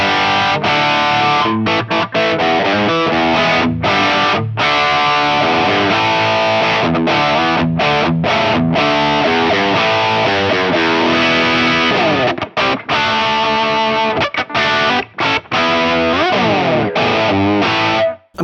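Heavily distorted electric guitar through a Friedman IR-J with its boost engaged plays a loud, continuous riff with sustained chords and quick breaks, thick with gritty overdrive and no voices.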